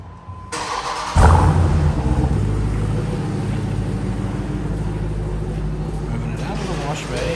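A 2022 Dodge Durango SRT starts up with a loud surge, then settles into a steady, deep engine rumble as it pulls out of a wash bay, while a person talks over it.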